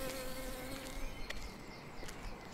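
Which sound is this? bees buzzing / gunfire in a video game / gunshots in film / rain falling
bees buzzing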